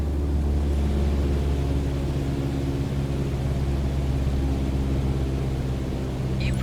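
Steady droning rumble of a simulated light aircraft engine throttled back to 1,800 RPM in Microsoft Flight Simulator, loud, constant and unbroken, with no voices.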